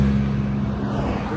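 Jaguar Mark II and E-Type rally cars pulling away gently at the start of a stage in a classic car tour, a low steady engine drone close by with no talk.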